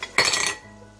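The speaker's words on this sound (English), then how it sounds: "And then we stir gently" A utensil clinks and scrapes against a pan in one brief, close burst while egg and seasoning are stirred, then fades to a quiet hum.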